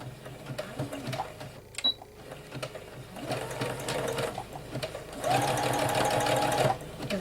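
A sewing machine stitches a canvas book panel nearby in short bursts, ending in a longer steady run of rapid mechanical whirring, with quiet rustling and handling between runs.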